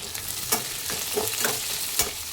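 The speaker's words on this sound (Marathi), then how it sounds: "कांदा छान ब्राऊन होईपर्यंत भाजून घ्यायचा" Chopped onion with salt fries in hot oil as a spoon stirs it, a continuous close sizzle punctuated by regular scraping strokes, with no voices.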